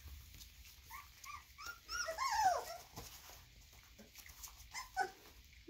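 Three-week-old puppies whimper and yip softly indoors, with a few faint, intermittent high cries and a brief cluster of squeaks over a quiet background, no speech.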